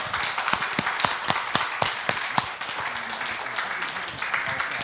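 Audience at a residents' meeting on apartment reconstruction clapping for volunteers, sharp distinct claps from a modest group, fairly close and steady across a few seconds.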